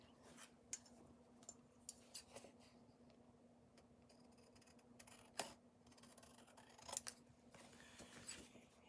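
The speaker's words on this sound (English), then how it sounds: "And then grab some scissors." Scissors snipping the edges of paper card while making a Christmas gift card holder: a handful of quiet, separate cuts in a hushed room.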